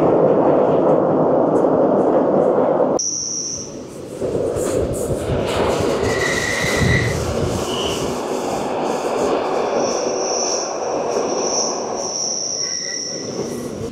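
Glacier Express train running through the Swiss mountains beside a river, a steady rolling rumble with wheel and rail noise throughout, high insect-like chirps and squeals appearing over it, loud and continuous.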